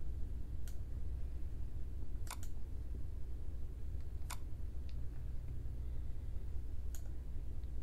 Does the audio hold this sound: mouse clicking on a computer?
yes